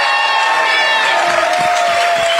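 A live crowd at a CPAC pre-show cheers and whoops loudly and continuously, with mixed shouting voices close by and a faint tonal hum running beneath.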